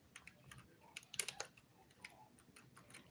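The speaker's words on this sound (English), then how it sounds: "So let me type this in." A web address being typed on a keyboard, faint, quick clicking keystrokes in an uneven rhythm, with a slightly louder cluster near the middle, no talking.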